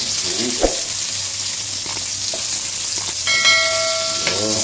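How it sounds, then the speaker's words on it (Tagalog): Garlic and onion frying in hot oil for a Filipino sauté, a steady close sizzle with occasional stirring clinks and a brief bright ringing tone near the end. "At mainit yung mantika. Panangayon natin yung bawang. Huwag lang natin sunugin. Next, sibuyas."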